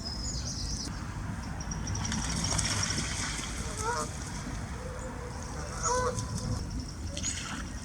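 Canada geese honking in Belgium in scattered calls at a moderate distance over steady broadband background noise, with occasional voices in the mix.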